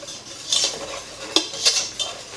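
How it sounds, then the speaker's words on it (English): Flour being stirred into melted butter in a pan for a turkey pot pie, heard as a few quick metallic scrapes and clinks of a utensil against the pan, close and fairly quiet. "I'm going to throw in 1/3 cup of flour. Stir that around a little bit,"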